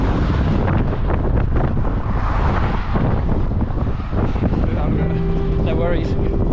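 Heavy wind buffets the microphone of a runner during a parkrun at the Severn Bridge, a constant loud roar with rumbling gusts, and a faint speaking voice near the end.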